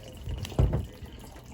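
Hot water drawn from a water heater tank with no isolation valve splashes and trickles nearby in a short burst, a brief surge of running water then tapering drips.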